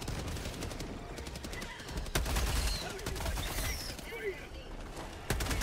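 Bursts of gunfire crackle in Helldivers 2 amid chaotic combat, with rapid shots and a louder impact near the middle, fairly distant and mixed with other battle noise.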